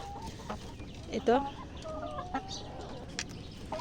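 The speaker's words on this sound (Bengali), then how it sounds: "এই যে দেখেন এটাও কিন্তু মুরগি" Egg-laying domestic hens in a Bangladeshi yard cluck in short, scattered calls, one louder burst standing out near the start, over a quiet, rustling farm background.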